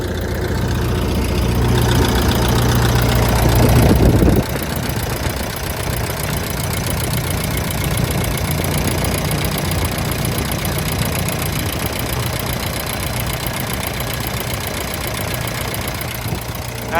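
A 2008 Kobelco SK140 crawler excavator's engine runs steadily, a loud, close, low diesel rumble with a brief heavier surge at the start before settling into a constant working drone.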